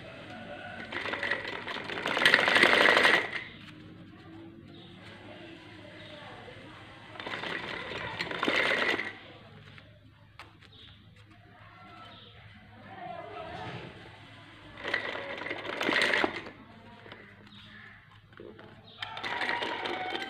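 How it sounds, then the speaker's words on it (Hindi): Sewing machine stitching a homemade foam cover, running in short bursts of rapid mechanical chatter with quieter gaps between, close by, with a voice talking in the pauses. "सिलाई देंगे इधर।"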